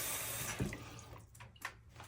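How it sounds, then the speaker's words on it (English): Water runs and splashes into a pail, a steady broadband rush with a brief heavier splash partway through, close and alone. "in your pail here, you're gonna put some water"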